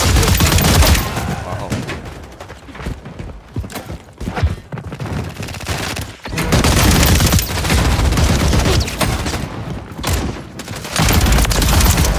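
Video game gunfire in dense bursts, loud rapid volleys of shots aimed at targets with brief lulls between them, a continuous, busy barrage that fills the whole stretch.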